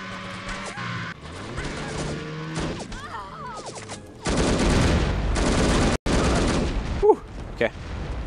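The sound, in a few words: grenades fired and exploding, No One Lives Forever video game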